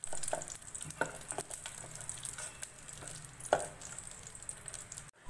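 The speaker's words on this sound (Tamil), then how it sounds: "பாதாம், முந்திரி பருப்பு போட்டு நல்லா வதக்கிக்கலாம்" Almonds and cashews sautéing in ghee in a pan for almond gum payasam, a quiet crackling sizzle punctuated by light clicks of a spoon stirring, with no one speaking.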